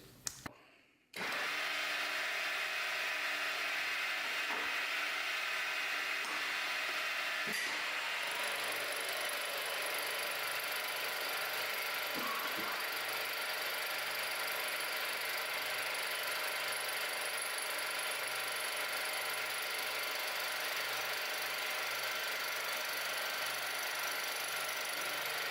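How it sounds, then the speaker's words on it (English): A Schaublin 22 milling machine head makes a light recut, its motor and cutter giving a steady close mechanical whine and hum that starts abruptly after a second and runs on unbroken. "Here you can see the head making the recut just ever so slightly."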